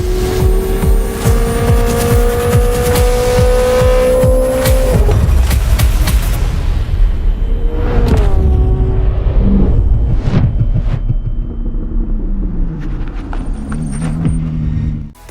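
Koenigsegg Jesko Absolute with its 5-liter twin-turbo V8, driven in Need for Speed No Limits: a loud, continuous engine roar that climbs and drops in pitch through revs and gear shifts, with no talk.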